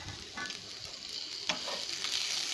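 Trianthema portulacastrum (saranai keerai) leaves frying in a pan with chili powder stirred in, a steady close sizzle with scraping stir strokes running through it, loud and continuous with no talk.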